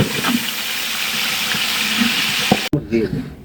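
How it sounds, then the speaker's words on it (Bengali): Chicken meat frying in a pan, a loud continuous close sizzle with occasional stirring clinks and a brief pause near the end before the sizzle resumes. "এখন এই যে মুগরির মাংসটা ভেজে নিচ্ছি খুব সুন্দরভাবে"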